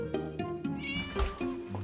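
Several house cats meow in turn, close and clear, with short drawn-out calls and a brief caterwaul-like cry among pets sharing a small home.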